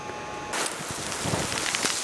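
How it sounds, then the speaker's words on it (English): A winter storm of freezing rain, snow and blowing wind hisses steadily outdoors, then suddenly grows louder and rougher, with gusty rustling and pattering close by. "Freezing rain, snow, blowing."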